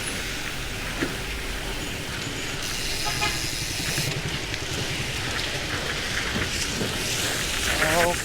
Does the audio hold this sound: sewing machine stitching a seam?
no